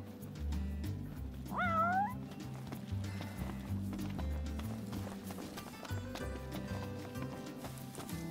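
A cat in Final Fantasy XV gives one short rising meow early on, set against a rhythmic clip-clop of hooves and game background sounds.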